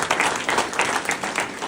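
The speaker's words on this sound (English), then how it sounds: "Give him a round of applause." A small crowd applauds a campaign manager at an election-night gathering in an ale house; brisk, dense clapping at close range, steady and loud for the whole stretch, with no talk over it.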